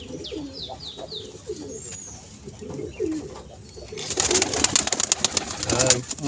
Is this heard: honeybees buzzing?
no